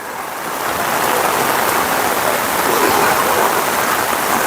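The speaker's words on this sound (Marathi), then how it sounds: "आता खूप पाऊस आला आहे" Heavy monsoon rain pours down steadily in a forest, a dense, loud hiss of water with no pauses and no voices.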